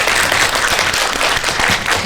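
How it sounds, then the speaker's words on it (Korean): At an indie film anniversary screening event for Light and Iron, with the director and actors present, the audience gives loud, close, sustained applause, the quick claps blending into a continuous crackle from start to finish. "다시 한번 뜨거운 박수 부탁드릴게요"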